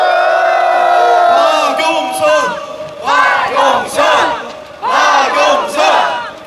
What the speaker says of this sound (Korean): 박영선 의원님께 박수 부탁드립니다